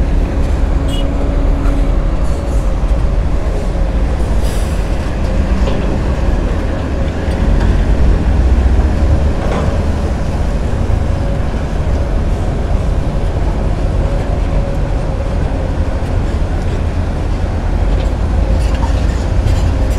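A Komatsu GD655 motor grader grading an airfield road, its steady diesel drone and rumble constant and close, with someone talking over it throughout.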